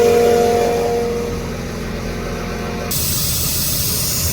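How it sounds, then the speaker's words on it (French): Air hisses steadily out of tractor tyres as they are let down from 1.5 to 0.8 bar before wheat sowing. The hiss is loud and broadband, cutting in partway through over a low engine rumble. "on est en train de dégonfler les pneus"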